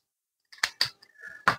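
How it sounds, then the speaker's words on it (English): Scissors snipping paper while cutting out the bottom arc of a cone pattern: three or four crisp, close snips with a short sliding rasp between them, quiet and alone. "cut this bottom arc out"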